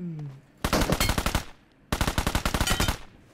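Two bursts of rapid automatic gunfire from a Honey Badger rifle in a shooter video game, each about a second long with tightly spaced loud cracks, separated by a short quiet gap; a faint voice is briefly heard at the start.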